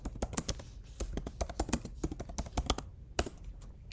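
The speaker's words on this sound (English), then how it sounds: "So I'm going to type npm run build." Fast, uneven typing on a computer keyboard, a steady run of crisp close keystrokes with a short pause near the end, quiet and with no speech over it.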